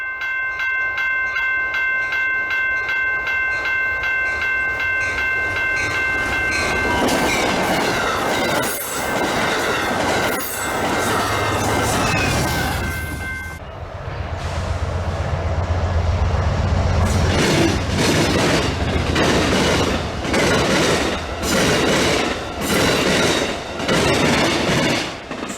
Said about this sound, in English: Here we have this Pan Am freight train coming through Wells, Maine